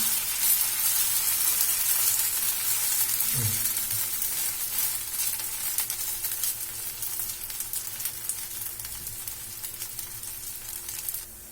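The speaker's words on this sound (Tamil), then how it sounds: "இப்ப நம்ம ரெடி பண்ணி வச்சிருந்த இந்த மிக்ஸை கொஞ்சமா எடுத்து இதுல தோசை மாதிரி ஊத்திக்கலாம்." Semolina and vermicelli dosa-style batter sizzles steadily on a hot pan over low heat, a continuous frying hiss that fades slightly toward the end, with a brief low scrape partway through and no voices.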